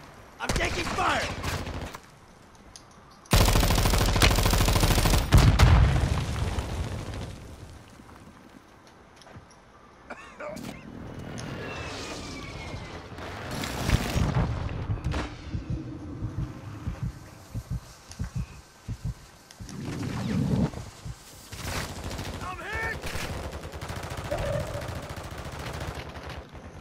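Rapid bursts of gunfire and explosions from Call of Duty: Modern Warfare II, loud and dense in places, with a heavy blast early on and continuous volleys under a game announcer's voice and occasional player talk.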